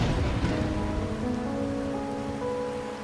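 Steady rain falling in the video game Wuthering Waves, a constant hiss of drops on surfaces with soft tonal music underneath, continuous and fairly loud.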